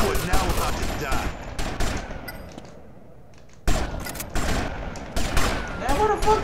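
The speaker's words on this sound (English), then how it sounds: "Now where the fuck they shooting at?" Gunfire in GTA: Vice City Stories crackles in dense, rapid volleys of shots. A brief lull in the middle gives way to another burst of sustained firing, with a voice occasionally heard under the shooting.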